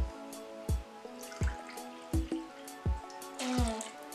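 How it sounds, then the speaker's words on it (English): Rhum bonbon rum poured into a Haitian blan manje fruit cocktail, heard as a quick series of close liquid glugs and splashy drops at an uneven rhythm, with no talking. "I'm going to add my 1/4 cup of my rhum bonbon"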